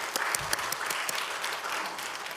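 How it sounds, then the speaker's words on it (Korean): A church audience applauds, a dense, steady patter of many hands clapping at moderate distance with no talk over it. "우리 CMC를 위하여 박수도 치고 또 여러분들을 위하여 박수 치는 거 괜찮겠습니까?"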